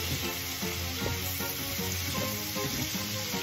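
Food frying in a pan, a dense, close, continuous sizzle with soft crackles and light stirring scrapes throughout, no talking.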